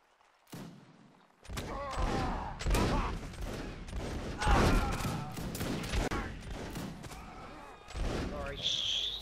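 Musket volleys in a line battle game, a dense crackling fusillade of overlapping shots and thuds rolling on for several seconds, loud and close, with voices talking over the gunfire.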